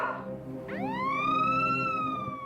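An emergency siren at a road accident scene on icy Canadian roads, a single rising wail sweeping up and holding steady, moderately close, with no talk over it.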